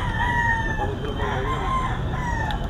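A gamecock stag crows at an outdoor rooster market on a rainy day, with a drawn-out call and clucking over crowd murmur and background chatter.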